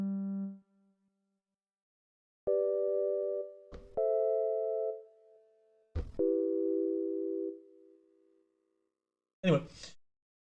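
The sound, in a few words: simple sine wave tone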